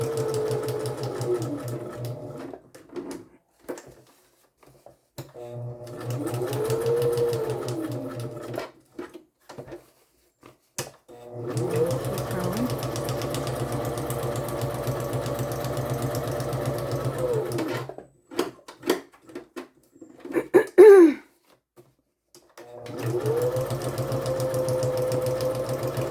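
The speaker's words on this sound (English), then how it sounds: "now I'm going to go around and sew the outer edges." A sewing machine stitches around the outer edges of a book-page pocket in several long, steady runs, its motor whirring loudly and close, with short pauses and brief fabric handling between bursts.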